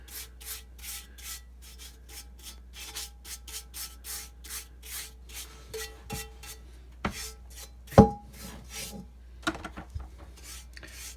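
A worn brush scrubs a rusty cast iron breakfast skillet in quick, rhythmic rasping strokes, close and steady throughout, with a few sharper knocks and scrapes toward the end.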